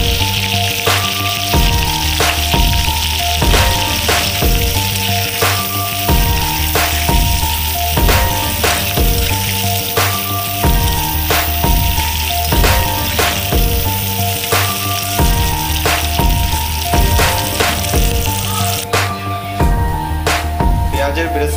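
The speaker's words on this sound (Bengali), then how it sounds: "এবার আমি সবার প্রথমে বিরিয়ানিতে দেওয়ার জন্য পেঁয়াজের বেরেস্তাটা করে নেব।" Onions fry in oil in a wok for biryani beresta with a loud, dense, continuous sizzle, overlaid by regular rhythmic clinks of stirring throughout.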